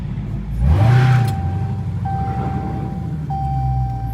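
Ford Mustang engine revving on a downtown street, one loud throaty surge that rises and falls back to a steady idle rumble, close and alone with no talk.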